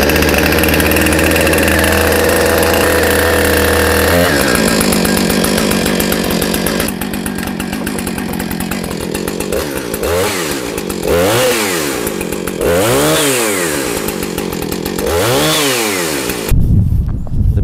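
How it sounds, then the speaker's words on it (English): A Husqvarna 455 Rancher chainsaw runs loud and close, a steady high engine roar that drops to a rough idle, then revs up and down in repeated throttle bursts with rising and falling pitch, with no talking. "you're gonna pull the starter. And once it starts, you're gonna start it up right quick, pull the chain brake away."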